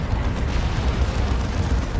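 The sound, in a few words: Manticore rocket strike explosion in video game Dawn of War 2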